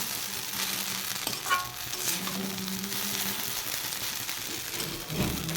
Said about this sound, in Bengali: আর এখানে হচ্ছে চাও চাও ভাজছি সকালের টিফিনের জন্য